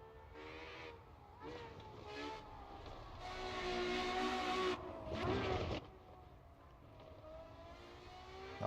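A race car engine in the Assetto Corsa EVO racing game, heard from outside the car on the Nordschleife, with a tonal, rising and falling whine that swells as the car passes and fades again, fairly faint.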